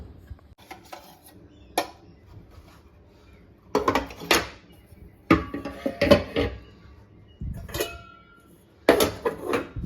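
Utensils and dishes are set onto a rack in a newly moved-into home, producing intermittent close clatters and clinks of metal and crockery separated by short quiet gaps.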